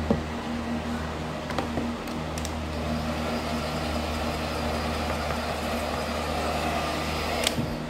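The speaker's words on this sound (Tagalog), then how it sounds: "Blower po muna tayo ng buho na ganyan." A free hair dryer at an indoor swimming pool locker room in Taiwan blows steadily and continuously, a constant whooshing hum with a few faint clicks and bumps in the room.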